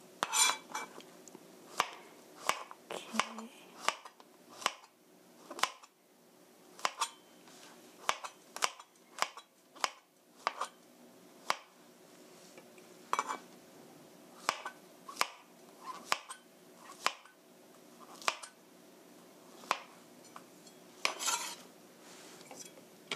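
Button mushrooms sliced with a knife on a cutting board, giving a steady run of sharp, close knocks spaced every second or so, with no voices.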